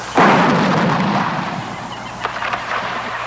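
A loud burst of gunfire aimed at a cabin in a film opens sharply, followed by a decaying rumble and a few scattered later shots.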